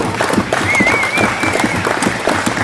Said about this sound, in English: Big round of applause for them, guys.